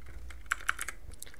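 Keys tap on a computer keyboard, a quick burst of light clicks with two sharper strikes, close and soft.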